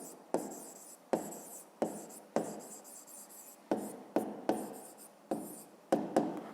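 Pen or pencil writing out a maths solution for a fifth-grade exercise, heard up close as a quiet series of scratchy strokes, each starting with a sharp tap and trailing off, in an irregular rhythm with short pauses.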